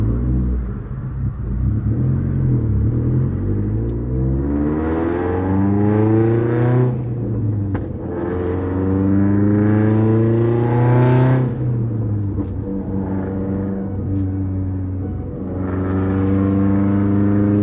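A Mitsubishi Evo X fitted with a new header and its original exhaust revs loudly up close, rising and falling through several long, throaty pulls.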